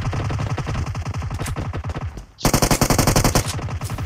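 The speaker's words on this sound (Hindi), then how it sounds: "तू सामने कवर रख लुटेरा फायर कर" Automatic weapon fire rattles in a PUBG battle royale match. There is a long, loud, rapid stream of shots, a short dip, then a second dense burst, all close and continuous.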